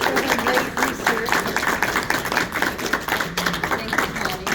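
Audience applause for a researcher at a talk, a steady broadband wash of many hands clapping throughout, fairly loud and continuous, with faint voices underneath.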